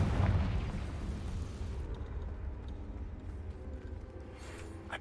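A Confringo blasting spell from a Hogwarts video game bursts in a loud, deep boom at the start, then a rumbling roar decays slowly over several seconds.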